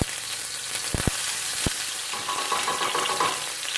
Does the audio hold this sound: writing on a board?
no